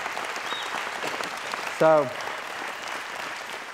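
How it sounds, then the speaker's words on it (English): An audience in a church service applauds steadily throughout, a dense wash of clapping. A voice briefly speaks partway through. "would you just give a clap or shout or something like that?"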